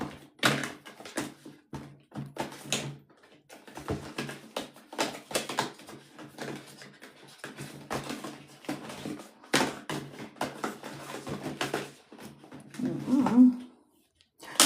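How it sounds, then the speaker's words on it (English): Someone rummages through a large drawer, with repeated clacks, knocks and shuffling of items in quick irregular bursts, close and moderately loud, ending in a heavier thunk. "If I could find it in this massive drawer here."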